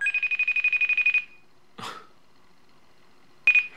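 A telephone rings in a fast repeating electronic trill, then stops. A short cough or breathy noise follows, and a final brief burst of ringing starts again. No one speaks.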